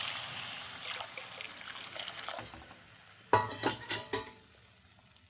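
Ragi flour burfi mixture with filtered jaggery syrup and cashews being stirred in a pan over a low flame, soft scraping and sizzle, then a few louder spoon knocks against the pan near the end.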